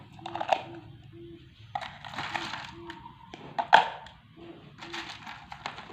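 Ice cubes set down onto the lid of a transparent glass half full of hot water, giving several close knocks and clinks with one sharp rattle midway, among faint tonal tones and background noise.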